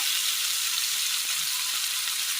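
Green chillies go into tomatoes frying in a pan, a bright, continuous sizzle that holds steady and close throughout.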